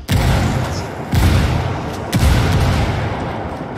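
Grenade explosion in a military shooter video game, a loud heavy boom followed by rolling rumble, with further blasts and gunfire bursts layered close together.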